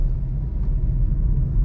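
A Suzuki Alto 660cc engine drones in a low, steady rumble from inside the car as it pulls through the gears at low rpm, no distinct shift audible.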